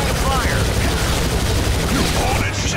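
Wolverine Origins video game combat: constant rapid gunfire and missile blasts form a loud, dense barrage, with a voice talking over the noise.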